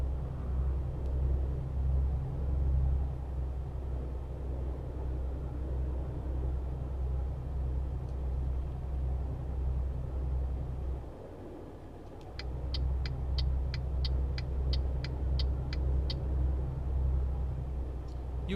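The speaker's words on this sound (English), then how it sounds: "This one's only got a 460 horsepower engine, so it's really struggling." Steady low drone of a 460-horsepower truck engine labouring in Euro Truck Simulator, briefly dropping away mid-clip before resuming, followed by a quick series of clicking ticks.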